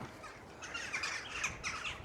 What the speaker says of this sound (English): There you go, crow paradise.